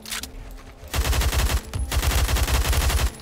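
An overpowered automatic gun in Roblox Phantom Forces fires in long, rapid bursts: a short volley, a brief pause, then sustained loud fire that continues to the end.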